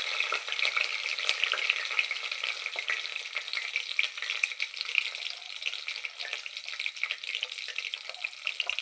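Peanuts, chana dal and cashews frying in hot oil for pudina rice, giving a dense crackling sizzle with sharp pops, steady and close throughout.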